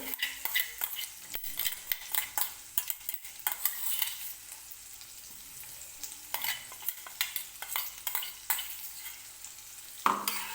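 Finely chopped green chilies sauté in oil for a potato and semolina cutlet recipe, with a continuous close sizzle broken by frequent spoon scrapes and clinks against the pan.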